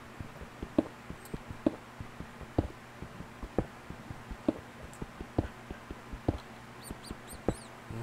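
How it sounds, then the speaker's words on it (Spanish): Small creature squeaks from a rodent-like mob in Minecraft, heard as repeated short sharp chirps in an irregular rhythm against a steady rain background, moderately close. "Escucho alguna rata cerca."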